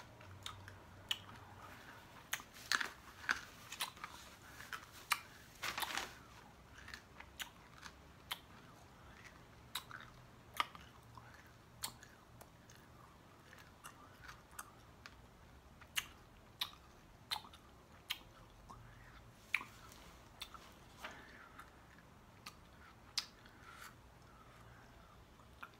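Quiet, close chewing and crunching on a hard lemon drop candy, with scattered small clicks and crackles over a faint background hum.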